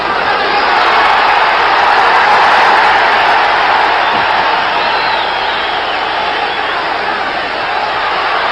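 Boxing crowd at the 1973 Jose Napoles vs Clyde Gray fight, a dense, loud, continuous roar of cheering and whooping filling the arena throughout.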